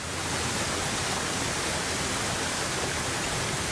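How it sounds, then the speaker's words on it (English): River water pours over stone riprap at a dam, forming a loud, steady broadband rush that stays constant throughout, with no voices. "all I see right now is water over stone"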